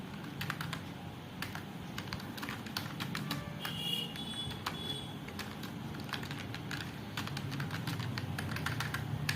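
Someone types a word on a computer keyboard, with a continuous run of close, quick key clicks and taps over a low background hum and no talking.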